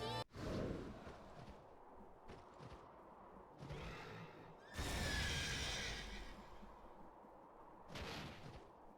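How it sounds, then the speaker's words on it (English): Kirin, the horse-like monster from the Monster Hunter video game, lets out shrill neighs over game noise, with a sharp impact at the start and louder whinnying bursts in the middle and near the end. "It's Kirin! Everybody's favorite horse!"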